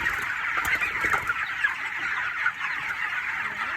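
A white chicken clucks steadily among the flock, a continuous busy stretch of close, moderately loud calls with no voices.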